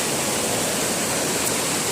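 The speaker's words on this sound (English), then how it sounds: "And the water's coming from up there. Just a beautiful stream." A mountain stream on the Appalachian Trail rushes past close by, a dense, even roar of flowing water with no other sounds.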